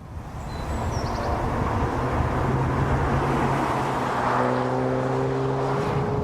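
An Audi TT accelerates hard from a standstill, its engine note a steady, dense roar that climbs slightly in pitch toward the end, heard close with no talking.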